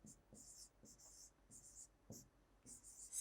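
Faint, close scratching of a teacher writing out an answer by hand in short repeated bursts, each stroke a soft rasp separated by brief pauses, quiet throughout with no talk.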